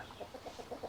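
A rooster clucks inside a backyard coop, a run of short soft low calls repeating at a steady pace, close by and quiet, with no talking over it.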